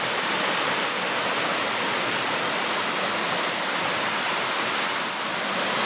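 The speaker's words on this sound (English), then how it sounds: "A pretty big waterfall. There's a big pool there" A large waterfall plunging into a big pool below a high cliff near Narrabeen on the coast, a steady, dense, loud roar of falling water with no breaks and no voices.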